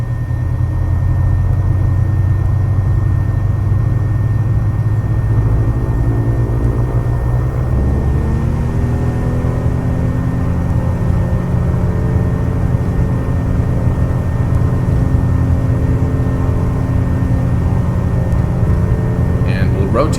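A Piper 28 Arrow III engine at full throttle in the Prepar3D flight simulator, a steady loud droning roar whose pitch and power rise partway through and then hold, with someone talking at times.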